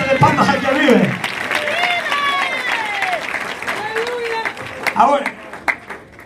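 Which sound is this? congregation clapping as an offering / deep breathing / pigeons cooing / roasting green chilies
congregation clapping as an offering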